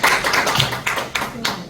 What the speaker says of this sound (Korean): 저기 박수를 한번 예, 쳐주세요